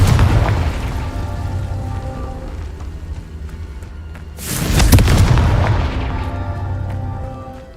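A fiery Confringo blast spell from the Hogwarts Legacy video game erupts as a loud, broadband boom midway through, with crackling rumble before and after amid busy game sound effects.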